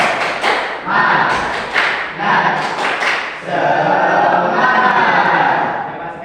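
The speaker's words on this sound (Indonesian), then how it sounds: "Coba sekali lagi ya. Tepuk semangat." A classroom of madrasah students performs the tepuk semangat clapping chant, loud rhythmic hand claps and thumps in quick bursts, blended with shouted group voices that surge and pause before a longer sustained stretch.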